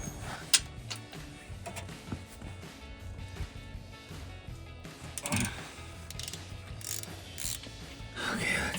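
A ratchet wrench works 18 mm steering box bolts loose on a Jeep Wrangler JK, giving steady clicking and metallic ticking throughout with occasional louder clanks, close up and fairly quiet.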